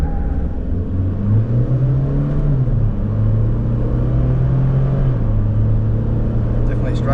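A hybrid pickup truck, either a 2024 Toyota HiLux 48V or a GWM Alpha Hybrid, accelerates in a quarter-mile drag race, heard as a loud steady engine drone that rises in pitch as it gains speed.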